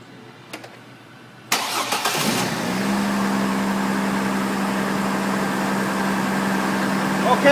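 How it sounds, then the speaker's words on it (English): A truck engine cranks and catches after a couple of quiet clicks, then settles into a steady, loud idle that hums on close by with no break. "Okay, now the engine's running."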